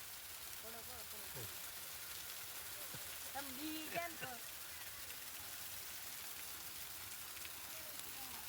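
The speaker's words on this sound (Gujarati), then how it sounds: "વરસાદ આવ્યો ને નાયા વરસાદના પાણી" Steady monsoon rain in Sukhpar, Gujarat, hisses across a surface as a constant wash of noise, while a voice speaks briefly beneath it.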